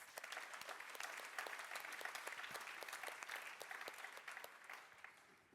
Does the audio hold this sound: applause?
yes